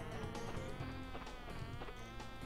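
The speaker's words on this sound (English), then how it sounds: "There are bees." Cartoonish bee buzzing from the Crash Bandicoot 2 video game hums continuously under dense game music and effects, steady and fairly loud throughout.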